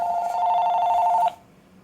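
A telephone rings with a steady electronic tone, close and loud for just over a second before cutting off abruptly into near silence.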